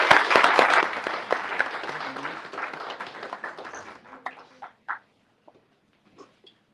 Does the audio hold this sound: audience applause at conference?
yes